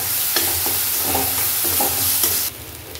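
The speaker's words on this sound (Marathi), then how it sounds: "त्याला परतून द्यायचा आहे मसाला चांगला, कारण मसाला जेवढा चांगला परतन तेवढी टेस्ट चांगली लागेल." Masala being stirred and sautéed in a pan sizzles steadily, with a spoon scraping in regular strokes close by, until the sizzle drops away near the end.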